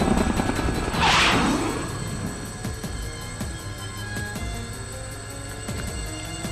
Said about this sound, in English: There's a deafening roar and the helicopter shakes madly but recovers.